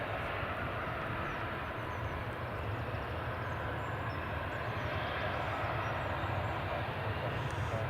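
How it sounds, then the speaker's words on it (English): Jet2 Boeing 737-800 taxiing to the runway at Edinburgh Airport, a steady broadband engine roar heard continuously from a distance, with no clear breaks. "Jet 2 737-800 is just taxiing to the runway"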